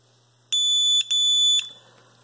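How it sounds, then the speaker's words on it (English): RFID hidden-compartment furniture lock sounding two loud, high electronic beeps, the first about half a second and the second slightly longer, after its reset button is held, over a faint low hum. "Simply hold that down long enough for it to beep twice."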